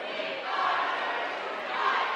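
Crowd roaring at a high school basketball game at York Suburban High School after a dunk, a dense sustained cheer from the student section, loud and continuous throughout with shouting voices blended into the roar.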